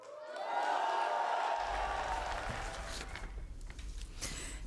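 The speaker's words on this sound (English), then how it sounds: "So please, give a big round of applause for the members and voters of the Croatian Democratic Union." Crowd applause and cheering at an election victory speech for the Croatian Democratic Union rises and holds for several seconds, with a dense, steady clapping wash and some scattered voices.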